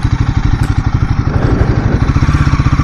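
A Royal Enfield Guerrilla 450 roadster motorcycle engine while riding, a loud, steady pulsing thump with even rapid beats throughout, close and alone.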